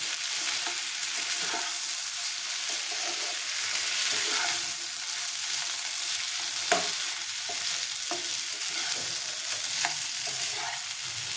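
Vegetable curry for stuffed paratha is stirred and mashed in a hot pan, with a constant close sizzle and repeated scraping and stirring strokes scattered throughout.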